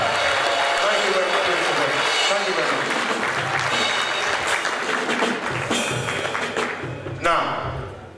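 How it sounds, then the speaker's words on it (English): Convention audience applauding in a hall at a residential gathering in Burton-on-Trent, a dense sustained patter of many hands that tapers off near the end, with voices mixed in. "Give yourselves a hand of applause."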